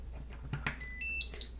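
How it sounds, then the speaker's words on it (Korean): Piezo buzzer driven by an STM32 microcontroller board, sounding two short steady electronic tones at set pitches right after faint handling clicks, quiet and close. "출력 장치 중 하나인 부저를 구동해 볼 거고요"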